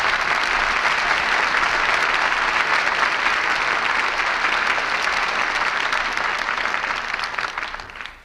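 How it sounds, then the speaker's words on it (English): Studio audience applauding the cast at the close of a radio theater drama, dense sustained clapping filling the room, loud and steady before tapering off at the end. "we all join in applauding the artists who brought us this play tonight"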